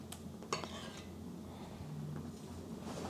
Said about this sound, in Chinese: 水开了，我们把血沫子打掉